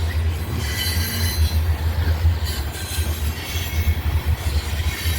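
A freight train pulls its slack out near Abbeville and Greenwood, giving a continuous heavy low rumble with metallic clanks and faint wheel squeal, steady and close, with no talking.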